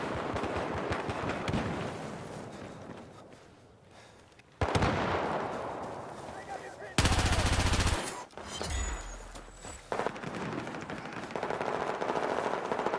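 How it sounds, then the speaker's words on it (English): Gunfire from Battlefield 4 in hardcore mode comes in loud, dense automatic bursts and single cracks, broken by short lulls, with game effects mixed in and a faint voice underneath. "the guns in this game, especially on hardcore, feel like they're actual guns to me"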